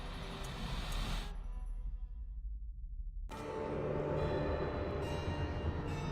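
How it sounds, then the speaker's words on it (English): A train rumbles and clatters in the video game Alice Madness Returns, cutting out abruptly partway through and then returning at full loudness as a dense mechanical roar with ringing tones. "My Lizzie, what is this train's destination?"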